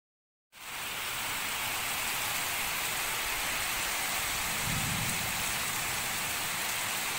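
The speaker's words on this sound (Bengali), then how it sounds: "হঠাৎ করে এই বৃষ্টি শুরু হলো এক্ষুনি রোদ উঠেছিল এক্ষুনি বৃষ্টি শুরু হয়ে গেল" After a moment of silence, steady rain sets in with a dense, even hiss that continues without a break.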